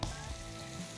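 Oil sizzling and frying steadily in a pot as a blue cheeseburger patty cooks, a continuous close, bright crackle with no talk.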